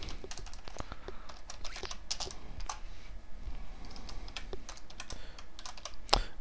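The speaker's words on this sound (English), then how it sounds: "in case you're wondering about my sloppy typing" Sloppy typing on a computer keyboard while writing a C++ Qt console program, a steady run of quick, close key clicks with uneven rhythm and occasional heavier strokes, no voices.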